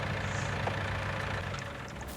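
Tractor engine idling in a farming simulator game on the Sandy Bay map, a steady low rumble that runs alone and evenly for the whole stretch.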